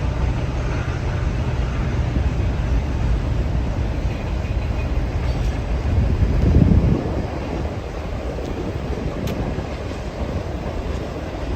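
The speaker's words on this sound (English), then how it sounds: "I hear a train coming." A train rumbles past nearby, a dense low roar with wind buffeting the microphone and a brief swell in the middle.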